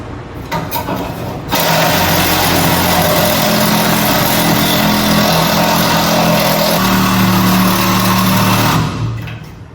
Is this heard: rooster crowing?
no